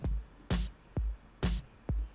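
A looping FL Studio drum pattern: deep kick thumps alternating with bright snare hits layered with a crisp clap, in a quick, steady rhythm.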